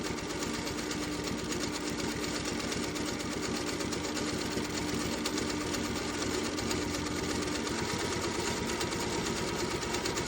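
A sewing machine quilting in one continuous thread for a Christmas quilt, running nonstop with a fast, even needle chatter and motor hum, close and steady for the whole stretch.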